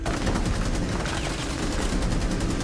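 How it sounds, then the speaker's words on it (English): Rapid gunfire from a magazine being emptied in Rainbow Six Siege, loud and continuous bursts of shots packed tightly together for the whole stretch. "Mag dump."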